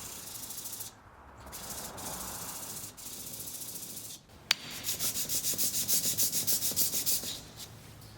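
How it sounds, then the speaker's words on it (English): Steady rhythmic rasping of a Damascus steel knife blade being hand-sanded on a machinist block to remove heat-treating scale, back-and-forth strokes with brief pauses, growing brighter and faster toward the end. "I do some sanding on a machinist block to get the worst of the heat treating scale off."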